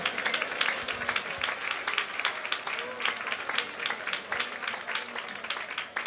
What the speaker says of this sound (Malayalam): കൈയടിക്കുന്നവർ നന്നായി കൈയടിച്ചു